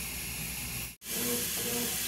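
Steam hisses steadily from a pressure cooker on a home kitchen stove, a loud continuous rush that cuts out briefly and then resumes at full strength.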